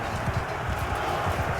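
Cavalry horses gallop across a battlefield in Mount & Blade II: Bannerlord, a dense, fast, continuous drumming of many hooves under a steady wash of battle noise.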